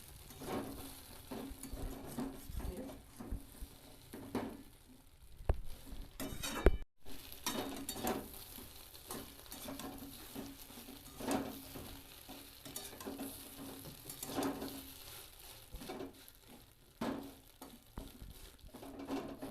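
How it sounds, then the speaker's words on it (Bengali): Egg-soaked bread fries in a pan while it is pressed down repeatedly, giving a gentle ongoing sizzle with irregular scraping and light clinks of a utensil against the pan, close and fairly quiet, and no voices. "যে ডিমটা ঢুকে আছে ভেতরে সেটা আমি চেপে চেপে দিলে একটু বেরিয়ে এলে ভাজা হয়ে যাবে।"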